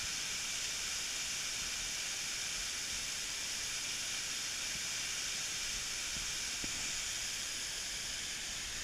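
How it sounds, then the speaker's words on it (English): A waterfall at Glen Onoko gives off a constant, even rush of hissing white water that fills the air steadily and evenly throughout. "And we got some falls right here."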